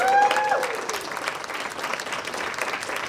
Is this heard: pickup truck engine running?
no